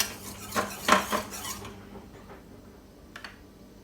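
Curry paste stir-fried in a little oil in a pan for a Thai fish jungle curry: a few quick scraping, clinking strokes of a utensil against the pan, then a quieter stretch with one more brief scrape near the end.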